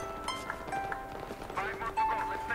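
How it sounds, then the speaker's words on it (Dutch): A phone's alarm clock plays a melodic tone sequence, bright repeating notes sounding over background game noise and a voice talking. "Dat is mijn wekker. Het is nu 12 uur."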